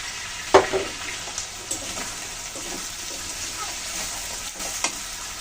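Green chillies hit a pan of frying potatoes and onions for a greens dish, giving a steady, moderate sizzle with a sharp clatter of stirring near the start and another scrape toward the end.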